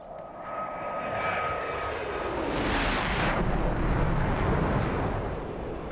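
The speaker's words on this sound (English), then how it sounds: "Okay, climbing up, picking up the target, keep climbing. Get the afterburner on." An F-104G jet in a flight simulator game climbs with its afterburner lit, a loud, sustained roaring rush that swells and stays strong throughout.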